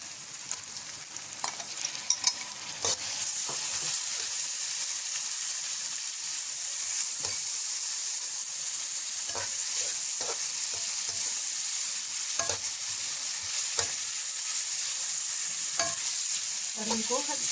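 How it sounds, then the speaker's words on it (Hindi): Softened onion and added spices frying in a pan for okra, a constant hissing sizzle with intermittent scrapes and knocks of a spoon stirring, steady and fairly close throughout. "और इनको थोड़ी देर तक इनको भूनेंगे अच्छी तरह ताकि ये चीज़ें मिक्स हो जाएं।"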